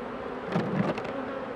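Honey bees buzz around beehive supers in a steady, close, dense hum with a few louder passes of individual bees swelling briefly.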